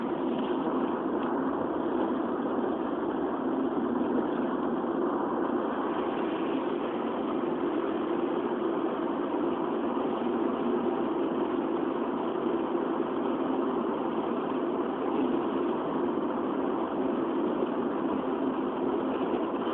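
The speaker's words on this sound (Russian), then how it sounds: "Салон автомобиля довольно шумный," A steady, droning engine hum fills a noisy car cabin during a spring 2016 road trip from Novosibirsk to Moscow, continuous and even throughout with no talk.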